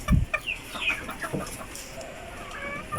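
Silver Hatch gamefowl chickens cluck and chirp in short bursts close by, over a low background hiss, with a brief thump at the start.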